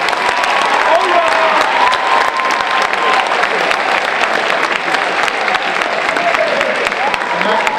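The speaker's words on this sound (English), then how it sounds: "We can give one last round of applause to all of our speakers." An audience at a Martin Luther King Jr. sophomore speech showcase applauds its speakers with a loud, continuous wash of clapping that holds steady the whole time, with faint talk mixed underneath.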